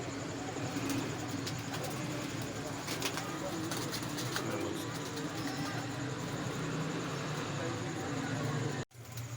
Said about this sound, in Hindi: माशाल्लाह बड़े अच्छे कबूतर हैं लाल आंखों के।